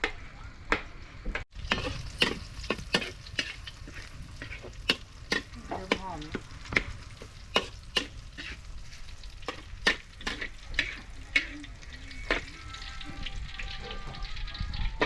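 Food stir-fried in a pan, with vegetables and pork tossed in hot oil, a soft sizzle under frequent sharp clinks and scrapes of the spatula against the pan, close by.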